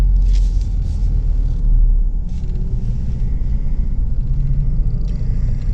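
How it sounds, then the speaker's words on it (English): Afternoon road traffic in Tallahassee, a heavy, steady rumble of passing cars with occasional higher hisses from vehicles going by close, continuous and fairly loud, with no talking. "See, this is traffic in Tallahassee."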